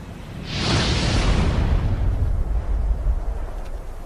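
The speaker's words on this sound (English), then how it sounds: "the resident dragon, the alpha male, blasts a warning into the air" A dominant male dragon blasts fire into the air as a warning: a sudden roaring whoosh swells into a sustained, loud, rumbling burst that lingers and trails off, with no talking.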